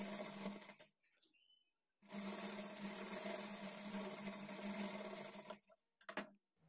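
A sewing machine stitches a folded armhole dart on a lining blouse with a quarter-inch margin, running in two steady bursts separated by a short pause, then a few brief stops and starts at the end.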